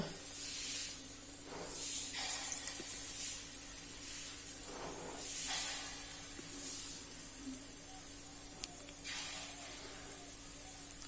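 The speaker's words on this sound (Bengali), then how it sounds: "তেল গরম হয়েছে, বড়াগুলো একটু একটু করে দিয়ে দিব।" Magur catfish fritters sizzle in hot oil in a kadai over low heat, a steady close hiss swelling and easing in soft waves throughout, with no voices.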